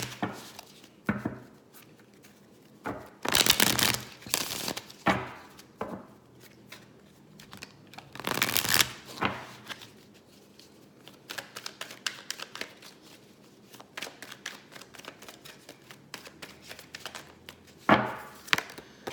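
Tarot cards shuffled by hand close up, with bursts of riffling and slapping separated by quieter handling and taps, and no talking.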